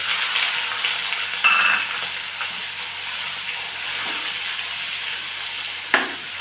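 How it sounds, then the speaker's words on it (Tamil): Curry leaves, sliced big onion and green chillies fry in hot oil with a loud steady sizzle, broken by a few spatula scrapes against the pan and one sharp knock near the end. "கறிவேப்பிலையும் போட்டு அடுத்து வந்து கட் பண்ணி வச்ச பெரிய வெங்காயத்தையும் அந்த பச்சை மிளகாயும் போட்டு"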